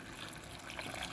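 Hot water poured into canning jars of green beans being prepared for pressure canning, a steady close trickle and splash of liquid filling the jars.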